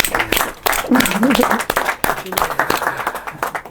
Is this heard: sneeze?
no